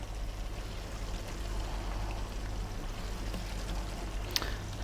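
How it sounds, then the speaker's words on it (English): Boiled meat stock water pours steadily into a stew pot holding big chunky potatoes, a continuous soft splashing stream that stays close and even for several seconds, ending with a small clink. "we're going to add the water that we boiled"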